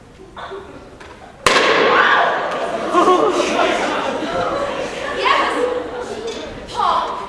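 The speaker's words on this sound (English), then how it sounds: "Look, these little firecrackers we just made, Penny." A homemade firecracker goes off with one sudden loud pop indoors, followed by lively overlapping voices talking.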